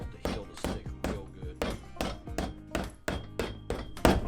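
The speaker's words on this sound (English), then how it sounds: "And then just hammer it down." A thick rubber heel is hammered onto a boot with hard, big-swing blows, about ten loud evenly spaced thuds in a steady rhythm, close by with no talking.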